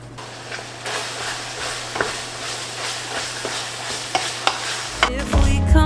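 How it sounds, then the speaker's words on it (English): Ground beef for pizza cooking in a pan: a steady close sizzle and hiss broken by several scraping stirs, ending in a louder clatter of handling. "I'm gonna go ahead and cook up my ground beef for the pizza."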